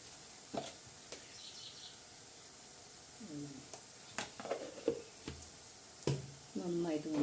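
Kashmiri chilli powder, plain chilli powder and a pinch of turmeric fry in oil for soya pickle, a soft continuous sizzle broken by scraping stirs and clinks of a spoon against the pan.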